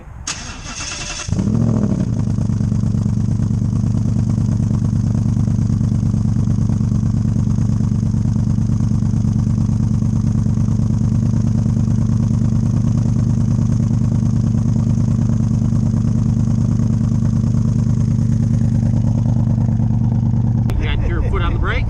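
A new car cranks over and starts, its engine then settling into a steady, fairly loud idle with a strong low hum that continues for about twenty seconds before a brief clatter at the end.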